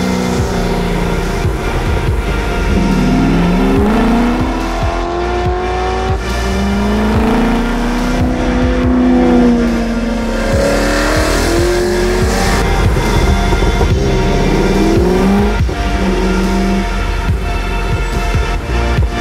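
A Ford GT40 race car engine revs hard while driving, its pitch rising and falling through gear changes in a loud, continuous, close-up roar with no talking.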